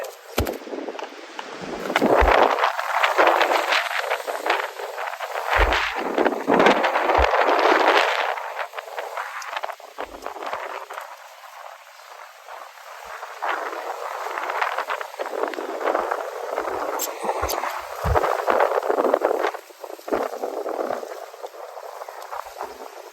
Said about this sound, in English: We've got a pretty ripping tailwind right now